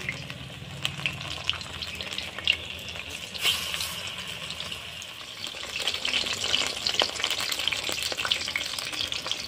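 Water lily fritters made with rice flour, gram flour, green chilli, turmeric and salt sizzle in hot oil, a continuous close crackle with occasional stirring scrapes that grows busier near the end.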